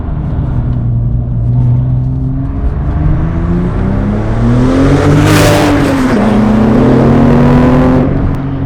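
A tuned 896-horsepower Porsche 997 Turbo accelerating hard, its engine note climbing steadily through the revs as a loud, continuous roar with wind rush swelling near the end; no talking.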